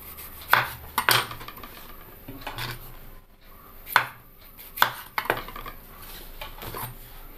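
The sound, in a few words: chopping green tomatoes with a knife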